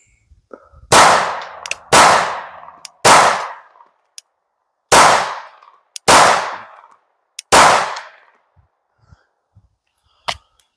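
Glock 19 fitted with a cobalt blue Leo Precision Oden slide, fired at a range: six loud, sharp shots at uneven intervals, each ringing briefly, with quieter clanks in the gaps.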